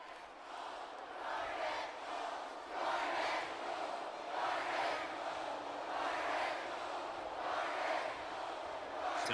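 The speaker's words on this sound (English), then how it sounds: "you can feel the thunder in the crowd as they await the start of this game" A stadium crowd in an NCAA college football video game, Boston College at Florida State, roars continuously before kickoff, a dense, far-off wash of cheering that swells and rolls in waves without a break.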